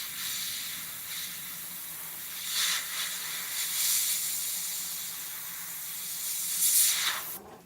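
An airbrush sprays paint onto a tornado painting with a steady, close hiss that swells and eases slightly as it moves, ending abruptly.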